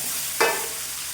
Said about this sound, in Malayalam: തക്കാളിയൊക്കെ ചേർത്ത് നന്നായിട്ടൊന്ന് വഴറ്റാം